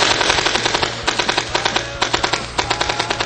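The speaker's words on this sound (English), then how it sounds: "an old school technique of high rate of firepower is called fanning the trigger" Rapid gunfire from a gun fired by fanning the trigger, loud and close, with a steady stream of sharp shots at roughly six or seven per second and no pauses.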